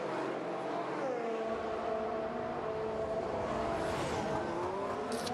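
A Ferrari Formula 1 car pulls out of the pit lane at the 2017 Bahrain Grand Prix, its engine note rising and sliding in pitch as it accelerates, loud and continuous over crowd and track noise.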